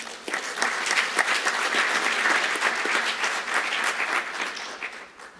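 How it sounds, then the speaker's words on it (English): Audience applause at an Africa engineering conference, a sustained wash of many hands clapping at moderate level that swells, holds, and slowly fades toward the end. "Can we just give that a round of applause before we even proceed further?"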